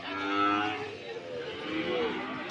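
Cattle at a livestock market in Sokaraja, Banyumas, give long, loud, nearby moos, one drawn-out call followed by another overlapping lowing, with faint crowd murmur behind.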